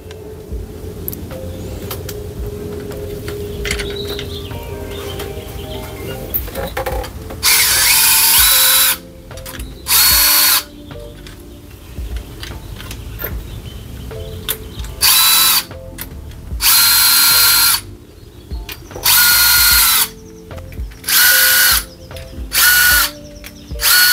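A power drill loosens bolts on a 1999 Honda Civic EX engine during a rocker arm replacement, its loud whirring bursts coming in repeated short spurts with brief pauses between, close up and with no talking.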